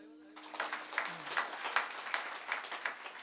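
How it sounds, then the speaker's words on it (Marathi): An audience at a bhajan gathering claps in unison, a steady rhythmic beat of about two claps per second that starts abruptly and carries on with no voices over it. "टाळी वाजवा एकदा."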